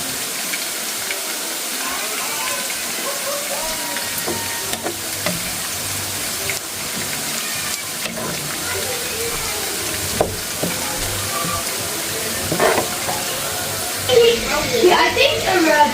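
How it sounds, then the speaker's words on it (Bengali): Onions frying in hot oil for beresta (crisp fried onions) sizzle steadily and close, a continuous hiss broken by occasional clinks and stirring sounds. "পেঁয়াজ বেরেস্তা ভাজা শেষ।"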